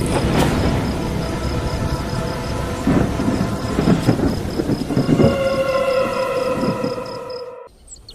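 Steady rain with deep rolling thunder in a Bengali horror cartoon, joined later by sustained droning tones before everything cuts off abruptly.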